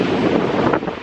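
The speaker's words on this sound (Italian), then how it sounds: "è freddo, c'è un leggero vento ma non si sta male" Light, cold wind blows outdoors at sunset, rushing and buffeting steadily against the microphone with no voices.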